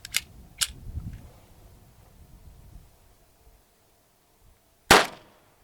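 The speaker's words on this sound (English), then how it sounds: "Okay, 22 long rifle out of a pistol." A .22 Long Rifle round cracks once from a pistol into a stack of hardcover books, a single loud sharp report after a couple of faint clicks and soft handling noise.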